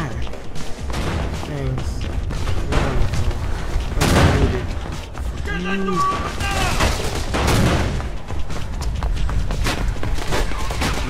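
Shotgun blasts and other gunfire in Mirror's Edge, irregular loud booms scattered through hectic game sound while someone talks briefly.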